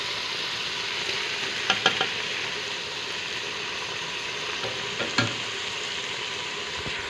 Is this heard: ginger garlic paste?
yes